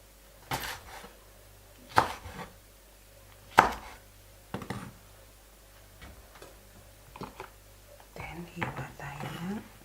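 A knife chops ingredients on a board for a sardine and calamari recipe, giving a handful of sharp, spaced knocks near the mic. A voice speaks softly between the cuts, and some clattering follows at the end.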